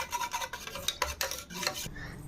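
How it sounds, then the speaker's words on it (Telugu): Cornflour is stirred into coconut milk with a spoon, making close, continuous scraping and swishing strokes against the bowl for a couple of seconds with no speech. "ఈ కొబ్బరి పాలల్లో 2 టేబుల్ స్పూన్ల కార్న్ఫ్లోర్ వేసుకుని బాగా మిక్స్ చేసుకోవాలి."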